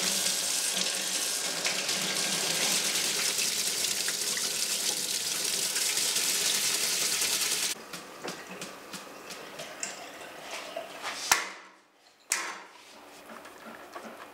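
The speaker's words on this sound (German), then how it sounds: "Nach der Gärung werden die Samen mit Wasser gereinigt" Running water rinses fermented tomato seeds, a steady broadband rush for about eight seconds that then gives way to quieter, intermittent splashes and handling sounds.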